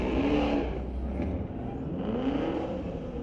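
A Chrysler drift car revs and roars at Mission Raceway Park during a street-legal drift night, its engine note rising and falling in a loud, sustained snarl close to the listener.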